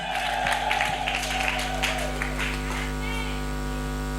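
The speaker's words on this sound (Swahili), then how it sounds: "Mpatie Bwana vigelegele vyako vya pekee kwa jina la Yesu." A church congregation ululates in praise, with high trilling voices rising over a loud crowd and scattered clapping against a steady background hum.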